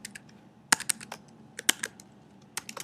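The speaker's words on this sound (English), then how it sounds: "I can just type anything" Fingers tapping on a computer keyboard in short irregular bursts of crisp clicks, close and alone with no talk.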